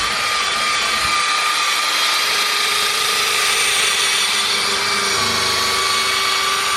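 A power drill whirs continuously at high speed, a loud steady grinding whine with slight shifts in pitch as it polishes a car headlight with a Meguiar's headlight restoration kit.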